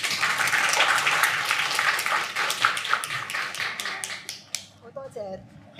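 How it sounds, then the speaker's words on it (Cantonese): An audience at a book talk applauds to welcome a professor, a loud, dense clatter of many hands that thins to scattered claps and fades out, with a voice faintly beginning at the end. "我哋以掌聲歡迎佢。"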